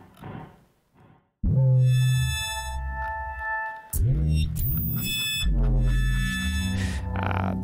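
A synthesizer combining a saw wave with an operator plays sustained, bright buzzy tones rich in harmonics. It is loud and steady, with a pitch change midway, and short quiet stretches occur before the tones begin.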